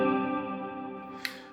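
A sustained, shimmering ambient chord rings out through a Strymon Nightsky time-warped reverb pedal with extra pre-delay, the wash decaying smoothly with a faint click near the end.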